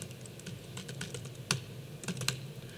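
Keys clatter on a computer keyboard as an import line is typed, a quick uneven run of light taps with a couple of sharper strikes, close and with nobody talking.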